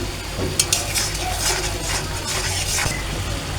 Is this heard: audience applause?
no